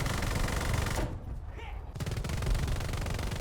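An anti-aircraft gun in War Thunder fires a dense, rapid stream of shots, loud and continuous, breaking off for about a second before the rattling bursts resume.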